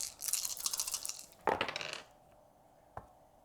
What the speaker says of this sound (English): Then Joey gets 5 dice.